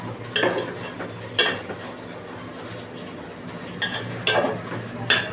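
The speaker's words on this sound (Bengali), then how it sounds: "ভালো করে মিশিয়ে নিই।" A spoon scrapes and stirs food around in a pan during cooking of katla fish head and gobindobhog rice pulao, with several distinct scraping strokes over a soft background sizzle.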